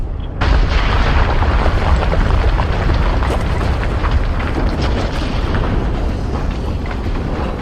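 A deep explosion sound effect depicting a cosmic explosion erupts suddenly and keeps roaring, a loud, sustained rumbling blast that fills the whole stretch without letting up.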